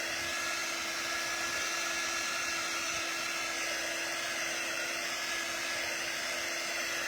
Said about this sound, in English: I do have a fan on up ahead, so I know that this is going to dry out even faster.